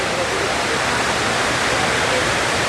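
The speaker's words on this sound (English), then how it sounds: "show you over the edge where the water pours" Water pours over an edge at an outdoor memorial site during a wake at Burning Man, a steady, dense rushing roar that fills the whole span without a break, close and fairly loud.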